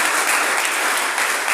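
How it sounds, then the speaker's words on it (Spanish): Loud applause from a church congregation giving praise to the Lord during a sermon, a dense, continuous roar of clapping close and full throughout. "¿Cuántos pueden dar un fuerte aplauso al Señor?"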